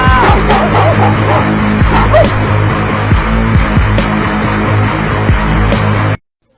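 A dog barks and yips repeatedly and loudly, close by, over a dense noisy background with engine rumble, cutting off abruptly at the end.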